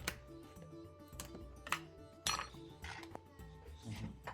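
Fish pakora batter being mixed slowly in a bowl, with a spoon clinking repeatedly against the bowl in light, irregular taps at close range. A faint background hum runs underneath, and no one speaks.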